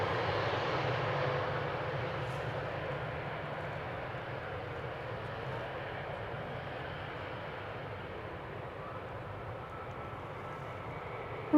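An Embraer 190 jet landing at Amsterdam Schiphol Airport, a steady loud broadband engine roar that holds throughout with no voices.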